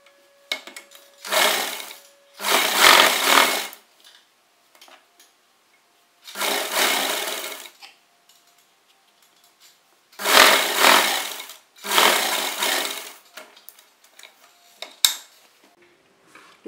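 A sewing machine stitches the shoulder seams joining the back panel of a garment in several bursts of rapid whirring, each a second or two long, separated by pauses with faint handling clicks and rustles.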